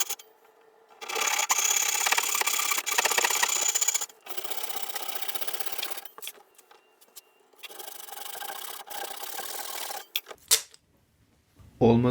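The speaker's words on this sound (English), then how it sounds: "So I'll take it apart and get sawing." A hand saw cuts wood from an old dovetail box in rhythmic bursts of rasping strokes, stopping and restarting several times, close and loud, ending with a few knocks.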